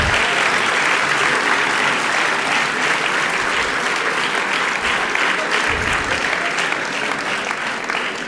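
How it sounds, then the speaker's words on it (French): Sustained, dense audience applause in a hall honoring a French champion, loud and steady for several seconds with a faint murmur of voices underneath. "je vous demande de l'applaudir bien fort"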